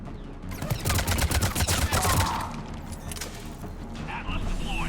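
Sustained battle gunfire from Mass Effect 3: rapid bursts of automatic weapon fire with sharp cracks and mechanical clatter, loud and dense for the first two seconds, then thinning into scattered shots and distant impacts while a voice speaks over the fighting.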